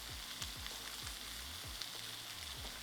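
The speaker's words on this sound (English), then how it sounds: "We're now going to cook on the other side for another 2 to 3 minutes." A steak sears in a hot pan on its second side, a steady, close, loud sizzle and hiss running throughout with no one speaking.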